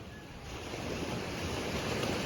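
Sea waves wash steadily along the shore at Sabang Port on an overcast day, a soft continuous surf with a broad hiss and low rumble, fairly quiet and unbroken, with no voices.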